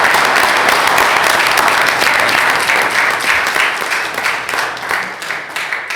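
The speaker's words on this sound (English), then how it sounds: "give him a big round of applause, folks" A board meeting audience in Farmville, North Carolina applauds Bobby, a dense, steady wash of many hands clapping at close range that eases slightly toward the end, with no talk over it.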